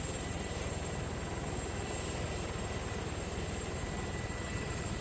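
A helicopter in Arma 3 runs its engine and rotors in a steady rhythmic chop with a constant high turbine whine, loud and close, with no talking.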